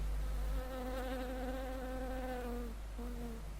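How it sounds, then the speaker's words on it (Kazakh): A fly buzzes close by in a steady, continuous drone that wavers slightly in pitch, briefly drops out, then resumes. "Өй, жабай шыбын емес пе екен?"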